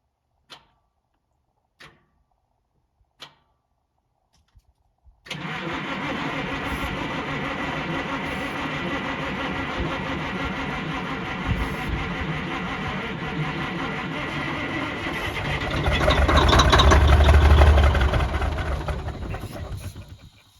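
A Kenworth K100 truck engine starts up after sitting a long time: a few sharp clicks, then a sudden catch into a loud, steady idle that swells briefly toward the end, with no talking.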